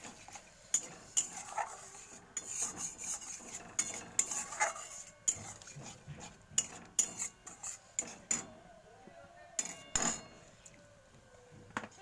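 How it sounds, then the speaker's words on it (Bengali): Masala being stirred and cooked down with a splash of water in a pan for dumur (fig) curry, with repeated scraping and clinking of a spoon against the pan in an irregular rhythm, close up, no talking. "মশলাটা একটু কষিয়ে নেব।"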